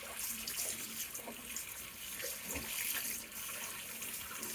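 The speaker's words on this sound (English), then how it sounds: "Rinse them off with cold water because I want to stop the cooking process." Cold tap water runs steadily into a kitchen sink, rinsing freshly blanched corn, a continuous close hiss and splash with faint shifts as the stream hits the food, and no talking.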